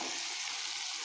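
Broad beans frying in a pan with browned onions give off a steady, close, even sizzle with no talk over it.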